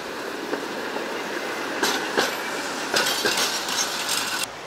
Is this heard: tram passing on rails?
yes